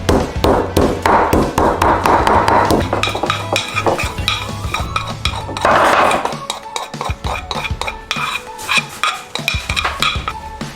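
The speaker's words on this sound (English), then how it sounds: "So all you just need to do is mince it. I have like a little mortar here." Fresh garlic is minced in a small mortar, making rapid, uneven tapping and knocking of the pestle against the bowl. The taps come in close, loud bursts with short pauses between them.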